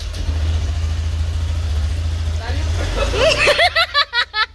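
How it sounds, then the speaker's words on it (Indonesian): An automatic motor scooter engine idles with a low, steady hum, then a rising whine follows as it revs. Voices chatter over it, and bursts of speech break through in the final second. "Setelah kuncinya diputar, motor akan menyala seperti ini."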